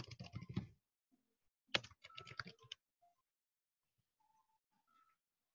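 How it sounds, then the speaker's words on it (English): Bursts of fast typing on a computer keyboard, two close clusters of crisp clicks separated by a pause, then near silence with a few faint stray sounds. "And I'm just typing in"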